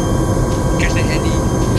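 A helicopter in the video game ArmA whines and roars steadily with a droning engine hum, heard under players talking over voice chat.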